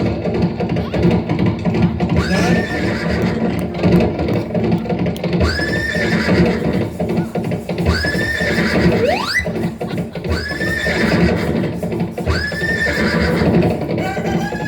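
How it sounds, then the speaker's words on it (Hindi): A horse pulling a chariot whinnies repeatedly in loud, regular neighs over a steady hoof clip-clop, with no talk over it. "घोड़ा जो रथ है टक टक टक टक चला जा रहा है।"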